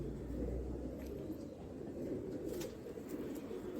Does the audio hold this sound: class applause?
no